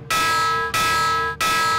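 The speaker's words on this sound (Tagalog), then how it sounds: "patunugin ang mga batingaw o alarm para bigyang babala ang mga residente" A bright tsunami warning bell rings three times in even succession, each strike loud and close with a long shimmering ring cut short by the next.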